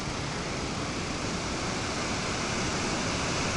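The Yar-Balyk river in the Kuray steppe below the North-Chuya ridge rushes like a waterfall, a loud, constant, close roar of churning water with no break.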